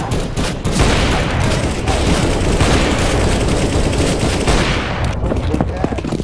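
Dense, continuous gunfire from Counter-Strike fills the whole stretch, loud rapid bursts overlapping into a near-constant rattle that thins out toward the end, with voices mixed in underneath.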